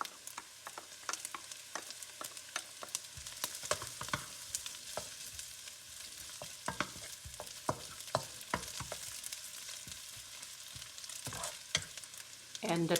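Garlic, shiitake mushroom and Chinese sausage fry for turnip cake, a dense crackling sizzle close up, punctuated by frequent clicks and scrapes of a spatula stirring, with no talking.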